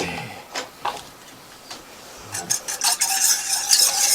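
A whisk beating milk and oil together in a bowl, starting with a few scattered taps, then building into rapid, close, continuous rhythmic scraping and clinking.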